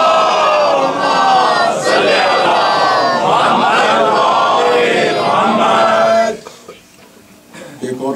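Congregation at a Muharram majlis, the final gathering of the ten-day ashra, loudly reciting salawat together in unison, a dense chorus of many voices for about six seconds before breaking off into quieter murmur.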